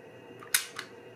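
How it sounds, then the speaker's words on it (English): A Holga 135 35 mm film camera's shutter release fires once, a sharp close mechanical click with a fainter second click just after, in an otherwise quiet room. "I'll press the shutter release button"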